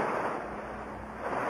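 Waves washing against rocks along a shore, a steady, broad rushing wash with no gaps, fairly close and full, with no voices over it.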